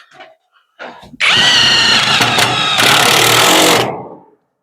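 A cordless impact driver fires in one loud, sustained burst of about three seconds, running nuts down tight during a two-person work job, after a few brief clicks and faint noises.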